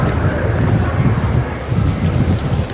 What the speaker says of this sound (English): Yeah, it's pretty windy here now.